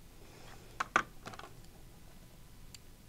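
Quilt fabric being cut on a cutting mat, likely with a rotary cutter: a few short, sharp scraping cuts close together, then a quiet stretch with one faint scrape near the end.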